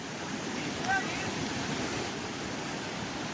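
The Ojat river in flood after heavy rain makes a continuous broadband rush of fast-moving water that stays even and fairly close for the whole stretch, with only a faint hint of a voice.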